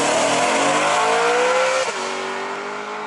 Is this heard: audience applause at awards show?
no